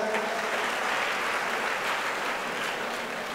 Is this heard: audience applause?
yes